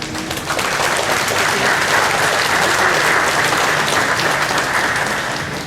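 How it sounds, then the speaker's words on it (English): Audience at an outdoor Hmong festival in Wausau gives a sustained round of applause, a dense, steady wash of clapping lasting several seconds before tapering off, with no talk over it. "please give yourselves a round of applause"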